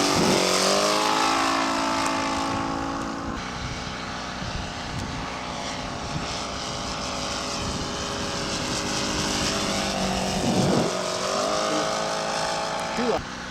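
A scale model aircraft engine drones steadily through a flyby, a strong buzzing tone that shifts in pitch as the plane passes, with people talking over it outdoors.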